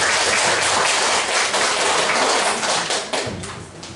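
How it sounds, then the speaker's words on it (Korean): Listeners at a high school admissions information session applaud a presenter with a thick, continuous burst of clapping that holds steady, then thins and fades over the final second. "그 수고하신 원장님께 박수 한번."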